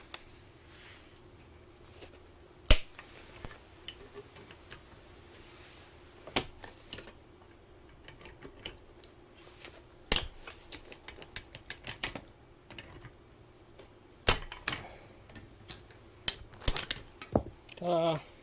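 Metal strip on an A123 LiFePO4 12-volt battery pack is snipped with sharp, isolated clicks and snaps at irregular intervals over a quiet background hum, with a few quicker clustered cuts near the end.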